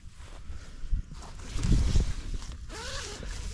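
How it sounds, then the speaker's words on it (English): A tent's two-way zipper is pulled open in a couple of quick, scratchy runs close by, with faint rustling of fabric around it. "Two-way zipper again,"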